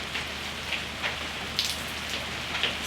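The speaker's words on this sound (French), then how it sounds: "Il pleut depuis tout à l'heure, donc forcément." Steady rain pours onto a house-building site during a storm, a dense continuous hiss with occasional sharper drop impacts nearby.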